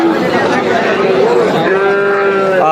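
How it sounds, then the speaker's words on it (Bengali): A colorful Sahiwal cow stands at a busy open-air cattle market in Chauara, Comilla, lowing among a steady crowd hum and other livestock, with voices talking throughout the short stretch. "শাইওয়ান জাতের গরু, কালারফুল গরুটি আমরা দেখতে পাচ্ছি আজকে চৌরাহাটে"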